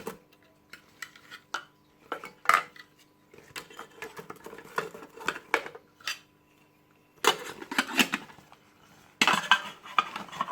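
Pieces of a camping cookware set being folded and packed, with a spoon and sponge placed inside: close, irregular metallic clinks, taps and rattles in scattered bursts against a quiet background.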